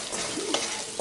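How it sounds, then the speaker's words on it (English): Chickpeas fry in sesame oil as they are stirred, giving a steady close sizzle with faint scraping of the spoon through the pan. "keep frying it until, you know, it gets quite brown"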